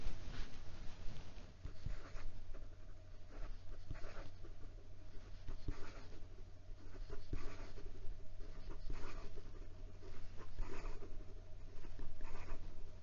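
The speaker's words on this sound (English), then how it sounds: "And some quick writing." Quick handwriting with a Picasso 915 marble rose fountain pen on paper, a steady close scratching and patter of nib strokes running continuously with no talk.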